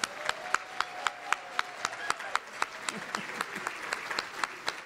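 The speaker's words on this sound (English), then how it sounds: "Let's have a round of applause for all of our honorees." An audience at a breakfast forum applauds honorees, with sharp claps landing in a steady rhythm over a faint, low crowd murmur, heard from some distance.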